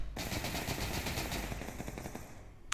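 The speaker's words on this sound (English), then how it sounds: "They're just exchanging gunfire." Rapid automatic gunfire rattles in a sustained burst during a competitive VR shooter match, loud and close, cutting off abruptly near the end with no talk over it.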